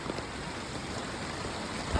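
Strong floodwater rushing along a flooded road during Typhoon Basyang, a steady, fairly faint broadband wash of flowing water with a brief bump near the end and no speech.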